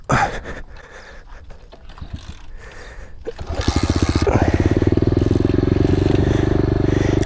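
An SSR 125 pit bike is kicked over with a few clattering mechanical sounds, then the engine catches on the first kick and settles into a loud, close, steady rapid idle putter.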